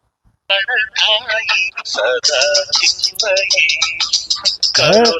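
A phone rings with a melodic song ringtone, a bright tune with rising and falling sung notes playing continuously and fairly loud.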